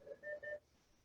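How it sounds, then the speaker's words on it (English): A phone gives three short, quiet electronic beeps in quick succession as it is switched off, each a clean tone, with faint room hush afterward. "I got to turn your phone off, Cary."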